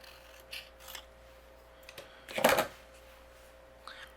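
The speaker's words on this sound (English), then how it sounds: "What I'm going to do with the green is just using my scissors." A single crisp snip of scissors cutting green paper stands out, with a few faint rustles and small taps before and after in a quiet room.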